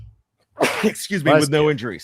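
A single sharp sneeze bursts out near the mic during a post-game football broadcast, followed immediately by someone speaking.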